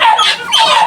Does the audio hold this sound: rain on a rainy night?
no